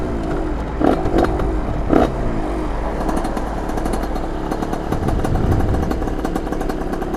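A 1986 TPF moped engine idles under a slight held throttle, a steady, close, rattly two-stroke drone with a couple of sharper revving bursts near the start, running alone without voices.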